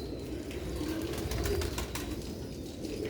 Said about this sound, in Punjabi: ਦੇਖੋ ਮਾਸ਼ਾਅੱਲਾ ਕਬੂਤਰ